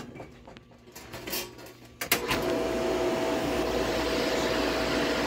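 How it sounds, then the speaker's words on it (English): Booster water pump switching on: after a quiet stretch with a few knocks and clatters, a sharp clunk gives way to a steady, loud, broadband motor hum that holds to the end. "I'm going to turn on the pump"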